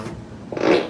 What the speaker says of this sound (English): That was a fart. It was a fart.